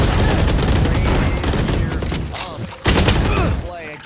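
Gunfire in a Valorant esports match, rapid bursts of loud shots and fusillades crowding the mix, with caster voices talking over the action.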